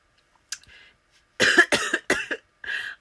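A woman coughs in a close, loud burst of several harsh coughs after a faint throat sound, then gives one more cough after a short pause.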